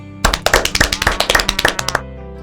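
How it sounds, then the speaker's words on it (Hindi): A quick burst of clapping, a dozen or so sharp claps in fast rhythm, close and loud, lasting under two seconds. "सभी लोग अपने लिए एक बार जोरदार ताली बजाएं।"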